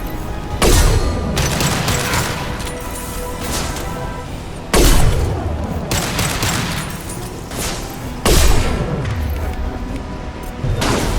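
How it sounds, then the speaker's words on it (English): Mass Effect 2 combat with a concussive shot and sustained gunfire: dense, loud bursts of shooting and booming impacts, with sharp louder blasts near one, five and eight seconds, continuous throughout. "Firing concussive shot!"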